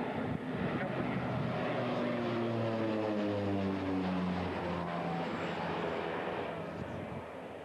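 Light propeller aircraft flying at an airshow, a steady loud engine drone whose pitch slides downward as it passes by, fading slightly at the end.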